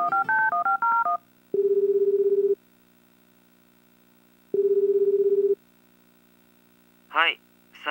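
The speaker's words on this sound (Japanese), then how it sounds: "佐伯くんに電話しよう。" Touch-tone dialing beeps in the video game Tokimeki Memorial Girl's Side 2nd Kiss: a quick run of keypad tones, then two long ringback tones separated by silence, ending with a short chirp as the call connects.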